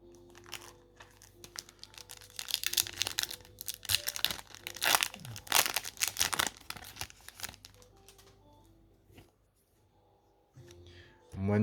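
Yu-Gi-Oh Crossover Breakers booster packs are torn open and the foil wrappers crinkled, with bursts of loud crackling and ripping in the middle, quieter rustling of cards before and after, and a soft voice at times.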